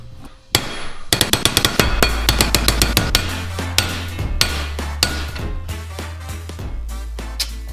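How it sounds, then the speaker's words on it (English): A railroad spike being hammered into a copper T-fitting, with a quick run of sharp metallic strikes, then slower, heavier ringing blows over a low hum, loud and close with no talk. "So I'm gonna just hammer on it."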